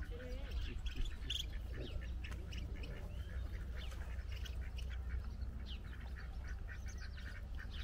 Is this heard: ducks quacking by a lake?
yes